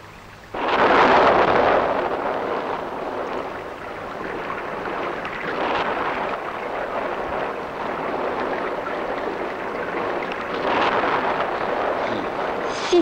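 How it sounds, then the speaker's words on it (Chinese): A heavy wind and rain storm roars steadily outside a door, with a loud gusty surge at the start followed by a continuous rushing wash of wind and rain that swells again near the end. "呢度咁大风雨"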